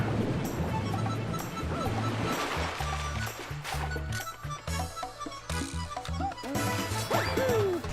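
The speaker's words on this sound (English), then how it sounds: "What you want to do is hop in here and ride the magical water." Magical water rushes and splashes steadily in Super Mario Galaxy, a loud surf-like wash layered under bright game music and occasional sharp effects.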